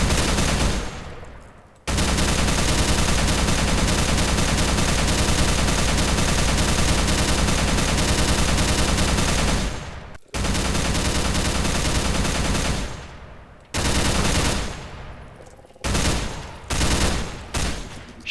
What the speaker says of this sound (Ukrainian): Щось я випустив дуже багато гранат, дуже багато бомб на нього